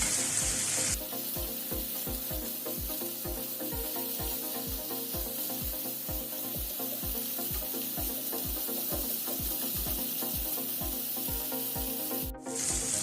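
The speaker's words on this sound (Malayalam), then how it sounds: "ഇനി ഇത് മുഴുവനായിട്ട് ഇളക്കി ഫ്ലെയിം കൂട്ടി വെച്ചിട്ട് ഇളക്കി നമുക്കിതൊന്ന് ഡ്രൈ ആക്കി എടുക്കാം." Tandoori-spiced chicken pan-fried dry over a high flame gives a steady sizzle with a regular series of rhythmic scraping stirs, close up and unbroken by voices.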